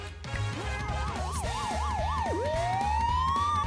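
Police patrol car siren in the Cupid Parasite visual novel, a wailing electronic yelp cycling rapidly up and down before sweeping into a long rising tone, set over a quiet background of soft music.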